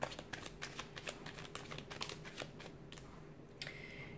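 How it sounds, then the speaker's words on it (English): Tarot cards being shuffled by hand close to the microphone, a quick run of rustling, flicking riffles and soft slaps with no talking. "We'll give the cards a shuffle and see what they're predicting for you this month."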